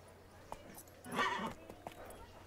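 Roach, the horse in The Witcher 3 game, heard faintly with a brief snort or whinny-like burst in the middle and a few light hoof clops around it, soft and somewhat distant.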